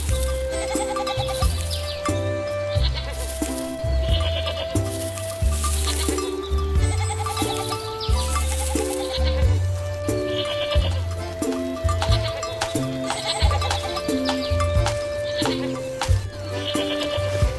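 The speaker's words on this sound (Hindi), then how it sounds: "हमारी बकरियों से मिलिए।" Cartoon goats bleating in an animated farm scene, repeated wavering calls blended into continuous upbeat background music throughout.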